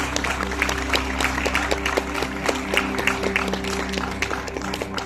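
An audience at an award event applauds to welcome a guest, with dense, continuous clapping throughout and a steady tonal hum underneath.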